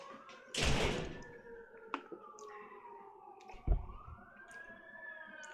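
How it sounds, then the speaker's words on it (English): Distant emergency vehicle sirens wail faintly outside a workshop, rising and falling, with a few nearby clicks and thumps. "There's sirens outside going."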